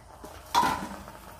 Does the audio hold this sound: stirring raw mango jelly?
yes